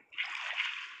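Water splash in the Minecraft video game, a single soft, bright burst of sloshing water that rises quickly and holds steady for about a second, heard alone without speech.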